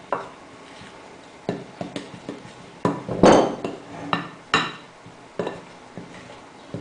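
Cocoa powder and ground almonds are stirred together in a bowl, with irregular clinks and taps of a utensil against the bowl, one louder scrape near the middle, and no talking.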